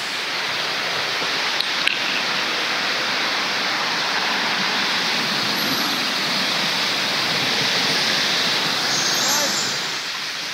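Outdoor waterfall roaring steadily close by, a dense broadband rush filling the whole clip with no break, while people speak faintly under it.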